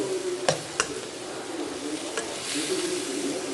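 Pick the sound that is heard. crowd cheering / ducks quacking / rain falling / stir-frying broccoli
stir-frying broccoli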